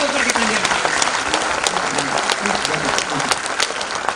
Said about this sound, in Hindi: जोर से तालियां बजाइए, लगातार खड़े होकर के तालियां बजाइए